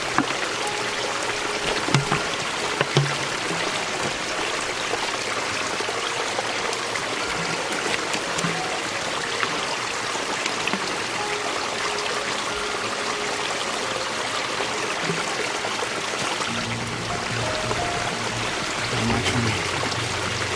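Stream water flowing steadily beside the Appalachian Trail, a continuous close rushing and trickling with a good strong flow that holds at an even level throughout.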